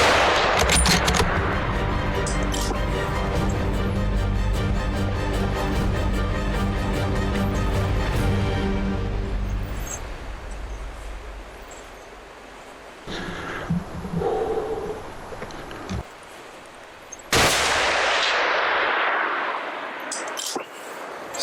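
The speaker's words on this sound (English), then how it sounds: "I shot the first time, definitely could hear the impact." Rifle fire rings out on an Alaskan moose hunt, aimed at a bull on a hillside about 250 yards off: loud, sharp reports with rolling echoes, then quieter scattered outdoor sounds.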